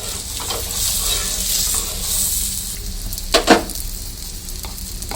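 Paratha frying in a pan makes a close, steady sizzle throughout, and midway through two brief metallic clatters of a utensil stand out against it.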